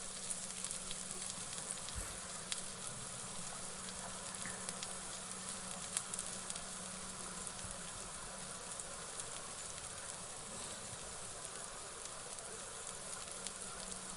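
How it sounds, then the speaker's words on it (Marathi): Bitter gourd slices fry steadily in a little hot oil over low gas, a continuous soft sizzle and crackle with no talking, the sound even and unchanging throughout. "आता कारले चांगले फ्राय होऊपर्यंत थांबायचं आहे"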